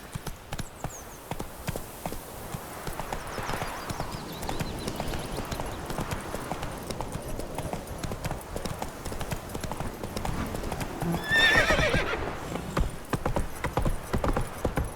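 A horse in the video game The Witcher 3 gallops with rapid rhythmic hoofbeats, and a neigh rises near the end. The sound is close and fairly loud throughout, with faint talk in the background.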